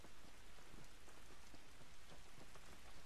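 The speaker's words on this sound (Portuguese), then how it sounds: "Essa chuva não vai nos ajudar" Steady rain falls outdoors in The Last of Us, a dense even patter on surfaces with no voices, moderately quiet throughout.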